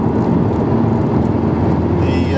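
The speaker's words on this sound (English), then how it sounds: "The engine is really willing to rev." A 2015 Honda Civic Type R engine in third gear, a loud, steady drone from inside the cabin that holds constant throughout without a clear rise.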